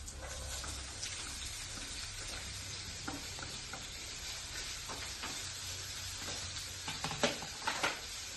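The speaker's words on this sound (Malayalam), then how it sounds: "ഇഞ്ചിയും വെളുത്തുള്ളി നന്നായിട്ട് പാടി കഴിഞ്ഞാൽ" Ginger, garlic and coconut pieces frying in a pan, a steady crackling sizzle like light rain with occasional stirring scrapes, clustering louder near the end, close and moderately quiet.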